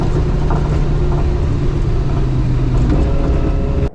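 Turbocharged five-cylinder rally car engine heard from on board, a loud, close, continuous drone with steady rumble and road noise throughout, no voices.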